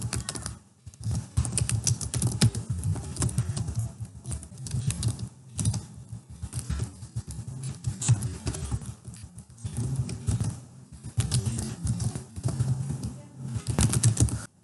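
Rapid typing on a computer keyboard at close range, bursts of clattering keystrokes with brief pauses between phrases while text is entered in PowerPoint 2007.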